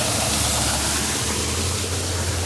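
Water rushes steadily through a channel at a chateau on its way into a lake, a loud, unbroken close-up roar with no voices.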